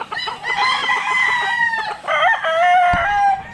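A gamecock brood rooster crows loudly and close by, one long call followed by a second, with faint clucking in the background.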